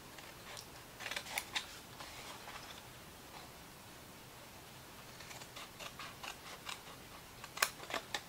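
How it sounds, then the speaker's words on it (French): Scissors snip through paper for a craft, quiet crisp clusters of cuts in short bursts with a pause in the middle, over a faint steady room hiss. "j'ai oublié de couper cela"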